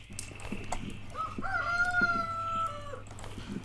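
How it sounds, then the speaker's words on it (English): A rooster in the farming game Force of Nature crows once, a long drawn-out call that rises and then holds steady, heard clearly over faint game background sounds. "I'm going to put that rooster further away, I think, because he's going to keep roostering all the time at me"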